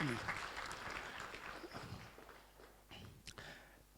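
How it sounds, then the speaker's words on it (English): Steady applause from a large crowd at a Ghanaian presidential transition event fills the whole clip, dense and continuous, with a few sharper claps near the end and faint voices underneath. "Please give him a round of applause."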